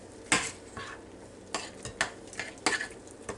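Apple pie muffin mix being stirred in a bowl, a few separate scraping and knocking strokes of a utensil against the side, close but quiet, with pauses between them and no talking.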